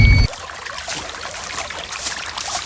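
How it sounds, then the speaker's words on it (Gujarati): Water from a pump flows into a farm field, a soft continuous trickle and gurgle that follows a brief louder burst at the very start. "આવ્યું મારા ખેતરમાં પાણી આવ્યું"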